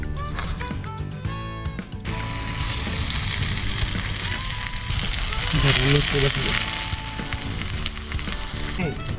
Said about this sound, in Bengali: বেগুন ভাজতেছি